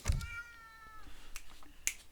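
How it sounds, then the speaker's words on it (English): A house cat gives one clear, drawn-out meow near the microphone, followed by a few faint bumps and a short squeak in a quiet room. "Kitty, what is wrong with you?"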